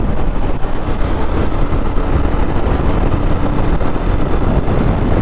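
A Royal Enfield Guerrilla 450 motorcycle overtaking at speed on the road: a loud, dense engine drone blended with heavy wind rush, steady and close for the whole stretch, no talking.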